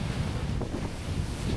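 Southerly jugo wind blowing at the sea, strong gusts buffeting the microphone into a constant low roar, with surf or water movement faintly beneath and no voices.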